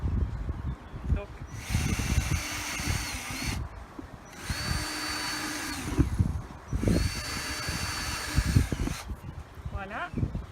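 Three bursts of a power drill boring drainage holes in a flower pot, each whine lasting a couple of seconds with pauses between them, close and fairly loud, with some handling noise.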